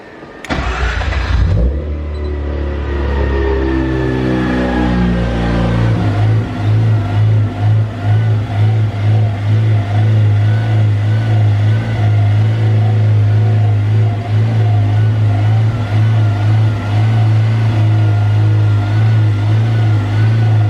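A 13B rotary engine in an E36 drift car cranks and fires, then settles into a loud, rough, lumpy idle with rising revs and a steady droning rumble up close.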